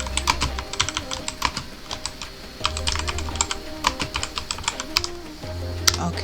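Rapid clattering keystrokes on a computer keyboard come in two quick bursts, fairly close and clear, with a low hum underneath and no voices.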